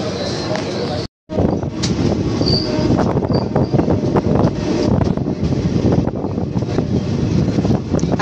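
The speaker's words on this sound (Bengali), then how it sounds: "কাটোয়ার 2 নম্বর প্ল্যাটফর্ম থেকে আমাদের ট্রেন ছেড়ে দিল।" The 13063 Balurghat Express pulls away from platform 2 at Katwa with a steady rolling rumble and rail noise, wind buffeting the microphone, after a brief dropout near the start.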